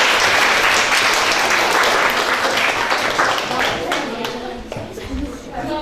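Audience applause at a quiz night, dense steady clapping from many hands filling the room, tapering slightly toward the end, with no speech over it.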